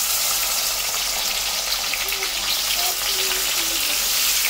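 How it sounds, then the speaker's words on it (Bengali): Soaked cashews and raisins fry in hot oil in a pan for pilau, giving a steady, close, loud sizzle that runs unbroken throughout. "আর এই যে কাজু আর কিশমিশগুলো আমি জলে ভিজিয়ে রেখেছিলাম, এগুলো আমি একটুখানি ভেজে নেব।"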